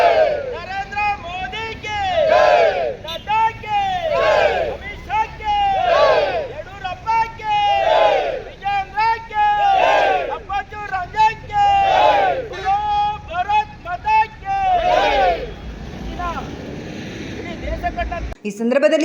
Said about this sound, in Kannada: ಕಾರ್ಯಕರ್ತರು ಪ್ರಧಾನಮಂತ್ರಿ ನರೇಂದ್ರ ಮೋದಿ ಮತ್ತು ಪಕ್ಷದ ನಾಯಕರ ಪರ ಜೈಕಾರ ಕೂಗಿದರು